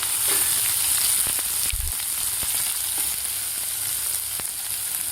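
Two medium onions, finely chopped, sizzle steadily in a hot pan with garlic, producing a constant close frying hiss with a few faint scrapes of stirring and no voices.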